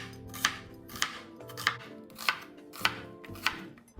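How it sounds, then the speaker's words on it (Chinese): A knife chops a peeled, halved onion into thick strips on a board, six crisp evenly spaced strokes about half a second apart, close and clear with no voices. "洋葱1个，约100克左右，去皮后对半切开"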